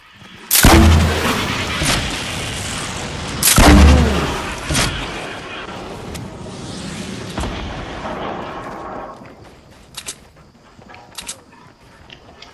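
Gunfire in the video game Fortnite, two loud close booming shots a few seconds apart followed by further shots and fading echoes, then scattered quieter distant pops.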